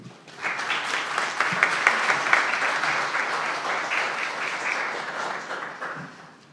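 Audience applause at a legal centre certificate ceremony, a dense sustained burst of clapping that swells quickly and holds for several seconds before thinning out; lively and close, no talk.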